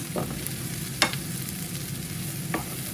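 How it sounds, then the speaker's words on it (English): Ingredients for a Chinese-style curry being tossed and stir-fried in a pan, a soft continuous sizzle broken by a few sharp scrapes and clinks of the utensil against the pan, close by with no talking. "Now just give that a little, you know, sort of toss around in the pan for a couple of minutes"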